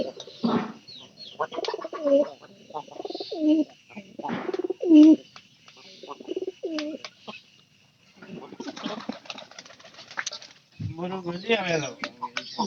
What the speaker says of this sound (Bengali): আমাদের এই যে কবুতর আছে পায়রাটা